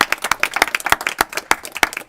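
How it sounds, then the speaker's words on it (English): Scattered, sharp clapping from a small audience at a Kentucky Senate agriculture committee hearing, with individual claps distinct and uneven for about two seconds. "Give them a round of applause for being here."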